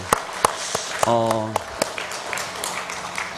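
Church congregation at a Wednesday prayer service clapping to welcome a child, heard as scattered sharp claps rather than a full ovation, with a voice talking briefly in the middle.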